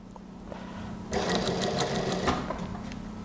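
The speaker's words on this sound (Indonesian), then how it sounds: "Saya jahit." A sewing machine stitches a Japanese-style zipper onto an A-line gamis dress, running in a steady rapid burst for about two seconds after a quiet start, fairly close with no talking.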